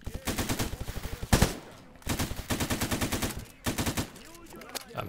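Bursts of rapid automatic gunfire from the S.T.A.L.K.E.R. GAMMA mod, three loud sustained volleys separated by brief pauses, with a heavier crack near the end of the first burst.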